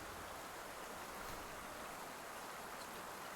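Steady broadband rushing water, like a flowing stream or waterfall, heard as ambient sound in the strategy game Crusader Kings 3; continuous and even, moderately quiet, with no voices.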